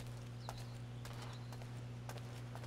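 Horse hooves clip-clop at a walk in Assassin's Creed III Remastered, a few soft distinct hoof strikes over a steady low game hum, fairly faint.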